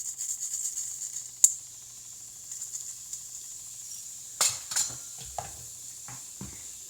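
Cumin seeds sizzle in hot ghee inside an Instant Pot, a steady soft hiss with a few sharp clinks of a utensil against the pot.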